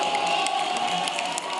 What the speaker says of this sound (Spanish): La porra priista se llevó el aplausómetro.